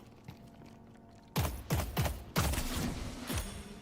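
Gunshots in a video game, a string of about six sharp close shots with booming tails, starting after a quiet lead-in and spaced roughly half a second apart.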